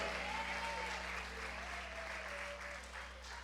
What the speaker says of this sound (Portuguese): Aplauda, igreja.